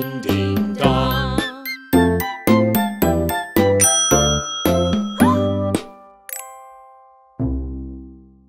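A chiming melody of bright, tinkling bell-like notes plays in a quick, regular rhythm, then ends with a sustained ding and a final lower dong, clear and close with no voices.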